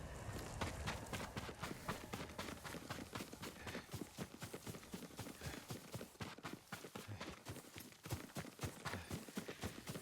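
Rapid hoofbeats of a running horse in the video game Ghost of Tsushima clatter steadily throughout, crisp and close, with a rhythmic galloping beat and no talking.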